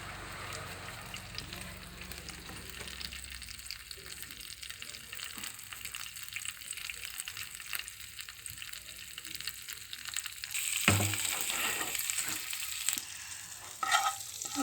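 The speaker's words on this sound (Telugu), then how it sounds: "తాలింపు గింజలు, జీలకర్ర, ఆవాలు, ఎండుమిర్చి వేసుకోవాలి తుంచుకొని" Tempering seeds, cumin, mustard and broken dried red chillies sizzle in hot oil with a continuous close crackle and spit, swelling into a louder burst of frying toward the end.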